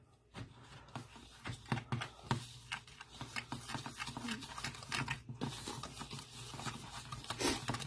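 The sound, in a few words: whisking casserole ingredients with onion powder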